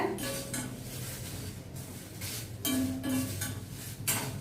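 Ingredients being stirred and dry-roasted in an iron wok over high flame: metal clanks and scrapes of a spatula against the pan sound close by in irregular bursts, over a faint background hiss.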